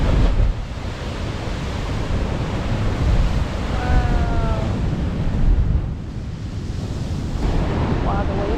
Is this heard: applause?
no